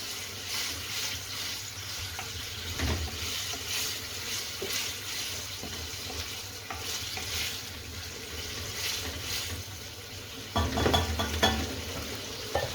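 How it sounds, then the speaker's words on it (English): Chickpeas are stirred into a bubbling balti, a continuous sizzle and wet stirring close by, with a louder burst of clattering stirring near the end and no talking. "it's time to add the chickpeas, or the chana, as they're called in Pakistan and India, and give it a good stir"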